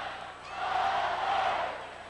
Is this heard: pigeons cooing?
no